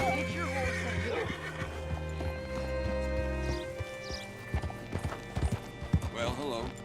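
Hooves clip-clop in an uneven trot as a horse moves along in Red Dead Redemption 2, mixed with background music and voices talking over it.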